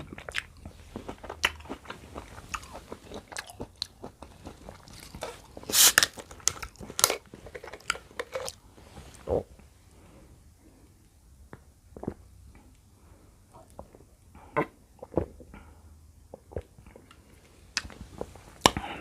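Cherry tomatoes being bitten and chewed close to the mic, giving sharp wet crunches and squishy mastication in irregular bursts, loudest around the middle, with quiet gaps between bites.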